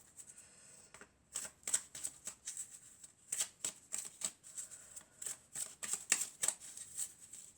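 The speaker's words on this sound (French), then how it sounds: "Non, je vais mélanger encore." Tarot cards shuffled in quick bursts of crisp riffling and slapping, a steady run of short card flurries close up with no talk.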